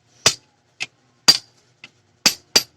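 A hammer strikes a chisel against metal while cutting a hole for a cast iron burner, six sharp ringing blows, alternating loud and lighter, close and alone.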